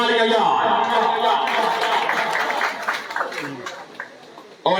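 Loud, steady crowd applause with cheering for a pigeon race winner at a pigeon club prize-giving ceremony, sustained for several seconds before tapering and a sharp clap at the end.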